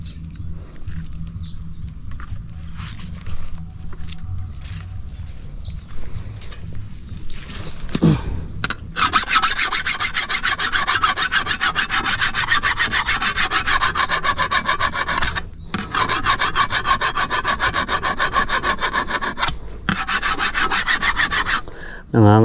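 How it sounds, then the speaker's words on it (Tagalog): A metal file scrapes back and forth along the blade of a grass cutter, a dense, continuous rasping close to the listener that runs with brief pauses through most of the stretch after a quieter start. "kikil kikil kikilin natin yung ano yung talim"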